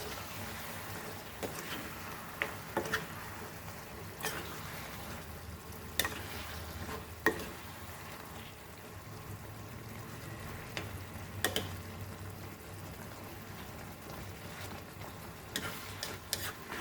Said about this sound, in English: Now we'll just mix this.